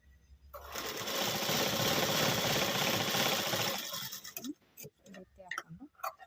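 A sewing machine runs steadily for about three and a half seconds as a strip is stitched onto a blouse piece, a close, fast, even mechanical whir that stops, followed by a few soft handling clicks and taps.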